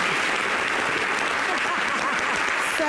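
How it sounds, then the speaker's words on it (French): Studio audience at a lively Ivorian television show applauds, a dense, sustained wash of many clapping hands filling the room, with crowd murmur and voices mixed underneath. "Applaudissez pour lui."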